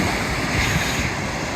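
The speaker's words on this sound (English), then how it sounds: "Look at that wave breaking." Ocean surf breaking at the entrance to Forster Beach, seen from a sailboat: a steady, loud wash of breaking wave and foam with wind rushing across the microphone, no voices.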